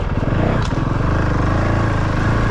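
Honda CRF450RL dirt bike engine running steadily in third gear on an off-road ride, a loud, continuous close-up drone with a slight rhythmic pulse and no talk.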